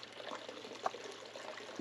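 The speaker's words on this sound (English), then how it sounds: "how the water comes out is called a weir system" Water flowing out of the weirs of a Royal Miller table, a faint, steady trickling wash with a small splash partway through.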